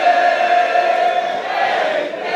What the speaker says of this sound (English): He's certainly got the crowd here in the Filton Community Centre in fine voice already